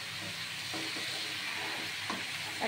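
Chicken with tomato paste and fried potatoes sizzles in a frying pan over low oil, a continuous close hiss with occasional scraping stirs of a spatula.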